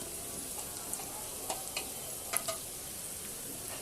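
Chilli chicken noodles with grated cheese and spiced sauce being stirred in a pan, soft scraping and light sizzling with a few sharper utensil clicks against the metal, steady and close.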